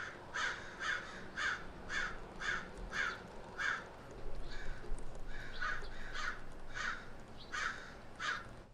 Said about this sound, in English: I'm gonna stop right here because those birds are killing me